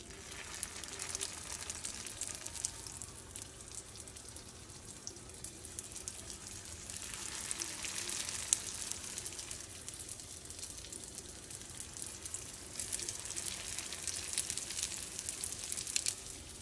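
An egg roll fries in a pan with a soft, continuous sizzle and crackle, faint and steady, swelling in intensity a few times with no talking.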